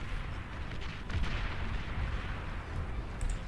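Artillery fire in the strategy game Beyond All Reason, a continuous rumble of booming shots and explosions with sharper blasts scattered through, dense and heavy with no pauses.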